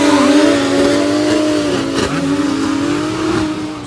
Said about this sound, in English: We've got some drift nutters.